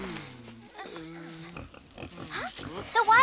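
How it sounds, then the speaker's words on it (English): Cartoon wild pigs grunt and squeal in a short burst of oinking, mixed with animated character voices and busy, shifting sound effects. "The wild pigs!"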